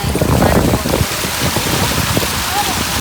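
Steady rain falls loudly and continuously throughout, a dense hiss with a pattering texture; faint voices sit under the downpour.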